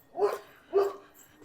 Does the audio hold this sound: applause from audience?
no